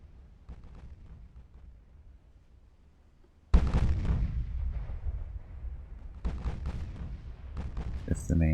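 A battleship's main battery fires in Ultimate Admiral: Dreadnoughts: after a quiet low rumble a sudden heavy broadside booms in loud and close, followed by more thudding shots and a continuing roar of battle.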